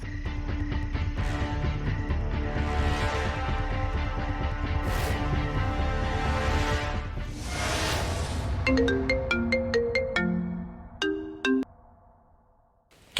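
A phone ringtone chimes repeatedly over a loud, busy background during a tense Bengali serial scene, then continues alone as a clear, near melodic ring with short pauses as the other sounds drop away.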